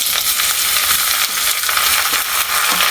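Cuttlefish goes into a pan of frying onions for a curry, giving a steady, loud, dense sizzle throughout with small scraping bursts from stirring and no voices.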